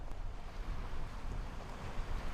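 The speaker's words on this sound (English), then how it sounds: "Lots of waves though." Wind-driven waves churning on a lake in late autumn, a steady, close wash of surf mixed with gusty wind rumbling against the microphone, continuous with no talk.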